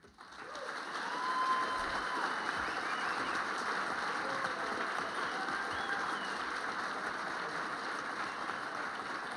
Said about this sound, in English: a round of applause for both candidates